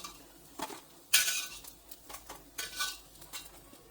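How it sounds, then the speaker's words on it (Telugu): Fried bread pieces for a jaggery double ka meetha being lifted from ghee onto a plate, with several sharp metal scrapes and clinks of a utensil against pan and plate amid a faint background sizzle. "ఇలా ఫ్రై అయిన వాటిని అన్నింటినీ ఇలా ప్లేట్లోకి తీసుకోవడమేనండి"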